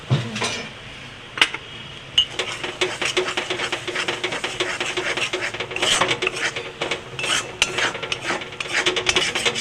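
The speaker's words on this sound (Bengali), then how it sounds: "ময়দাটাকেও নেড়ে চেড়ে ভেজে নিলাম বাটারের মধ্যে রসুন আর ময়দাটা" Flour and garlic stirred and fried in butter in a pan, with steady scraping and rasping strokes of a spatula and a few sharp knocks against the pan, close up.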